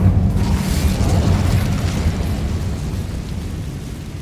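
A fire spell blasts in the game Hogwarts Legacy, a loud low boom that rolls on as a dense roaring rumble and fades gradually over several seconds.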